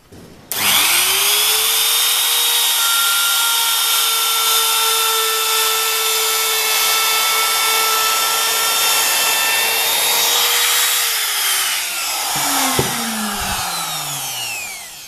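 Vonhaus router cutting through wood, a loud steady high-pitched motor whine held for about ten seconds before the pitch drops and spins down, close up with no talk.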